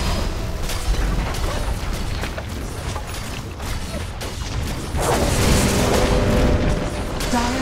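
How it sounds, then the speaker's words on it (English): A Dota 2 match with a tower under attack and collapsing, heavy booms and mechanical impacts piling up continuously, the last few seconds the loudest, while a game announcer speaks over the battle. "Dire's middle tower has fallen."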